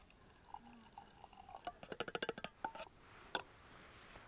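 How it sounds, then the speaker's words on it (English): Double shot of espresso poured from a portable espresso maker into an insulated coffee mug, heard as a quiet run of close, rhythmic liquid trickles and drips lasting a couple of seconds with no talk. "I'll just pour my double shot into my insulated coffee mug here."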